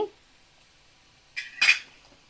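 A spoon stirs a chickpea dal mixture with spice powder and salt in a pan over a medium flame, giving two short metallic clinks and scrapes near the end after near-silence.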